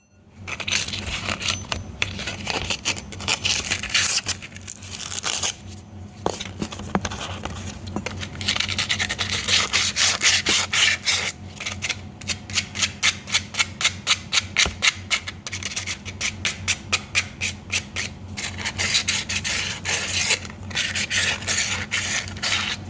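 Hand sanding with coarse 60 grit multi-purpose sandpaper on a DIY Halloween decoration, close rasping strokes that start irregular and settle into a fast, steady back-and-forth rhythm, loud and without speech.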